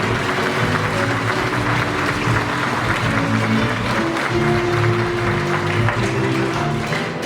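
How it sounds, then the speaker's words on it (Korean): Sustained audience applause at a business agreement signing and naming ceremony for a designer village, steady and full throughout with a tonal musical layer running underneath. "박수 한번 크게 부탁드립니다"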